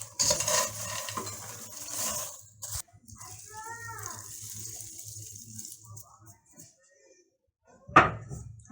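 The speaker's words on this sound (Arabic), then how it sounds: "لازم نقلب من فوق لتحت" Popcorn with seasoning powder stirred from bottom to top in a pot, giving close scraping and rustling bursts that fade toward the end, with a voice talking briefly in the middle.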